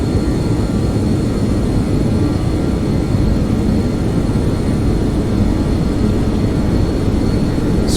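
BAe 146 jet engines roar continuously at takeoff power in a flight simulator game, a loud, steady broadband rumble that never lets up.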